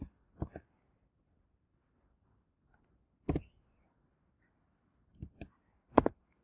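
Someone types a name on a computer keyboard: sparse, quiet, close key clicks coming singly and in small pairs with long pauses between them.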